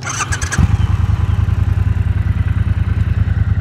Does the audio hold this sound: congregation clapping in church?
no